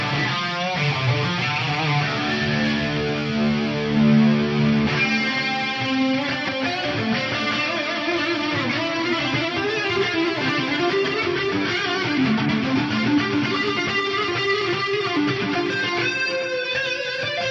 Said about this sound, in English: I love the way that gated reverb kind of clears out, but the delay keeps feeding back and degrading